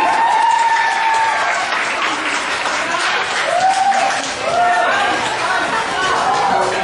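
Crowd applause for a contestant in a party clapping game, steady dense clapping throughout with lively chatter and voices mixed in.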